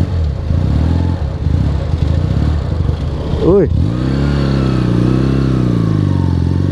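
A 1976 Honda CB200 twin motorcycle with a hollowed-out modified exhaust on a stock casing, loud close-up idle with a sharp rev blip in the middle settling back to a throaty burble, a voice briefly heard.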